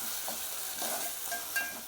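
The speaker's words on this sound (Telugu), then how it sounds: "కొంచెం ఈ ఉల్లిపాయల్లో ఒక 2 మినిట్స్ వేయించుకోవాలి" Ginger garlic paste fries with onions for an Andhra-style chicken curry, a steady close sizzle with soft stirring scrapes and no voices.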